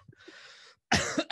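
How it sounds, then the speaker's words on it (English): A faint murmur, then two sharp coughs in quick succession, close to the microphone. "I just got sympathy coughs."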